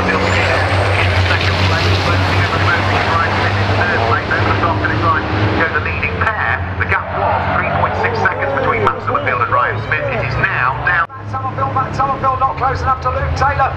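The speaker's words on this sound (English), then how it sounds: "it is still the number 79 MAN of Luke Taylor that continues to lead the race" Racing trucks, led by a MAN truck, roar past on the Brands Hatch circuit during a British truck race, a loud sustained engine drone with changing pitch, under continuous commentary.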